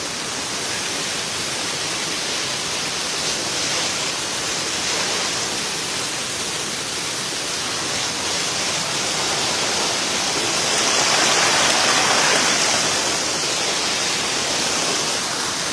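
Tungtong River Falls pours in a steady, dense roar of falling water, broad and constant with a slight swell near the end and no voices.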